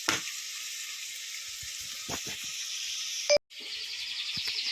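Chopped leek frying in a pot for a lentil and chorizo stew: a soft, continuous hiss of sizzling fills the clip, broken by a few faint knocks and a brief clatter near the end, close and moderately quiet.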